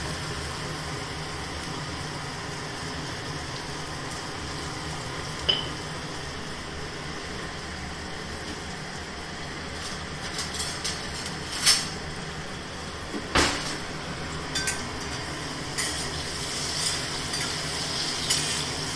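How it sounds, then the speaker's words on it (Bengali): Salted eggplant pieces frying in hot oil in a pan, a steady moderate sizzle throughout with scattered clicks and scrapes of utensils growing more frequent toward the end. "বেগুনগুলোকে ভেজে নেবো অল্প একটু নুন দিয়ে ভেজে নেবো"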